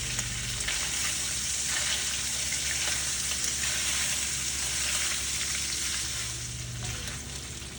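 Jambalaya sizzling in a pot as it is stirred around, a steady loud frying hiss with soft scraping from the spoon, running continuously with no talk.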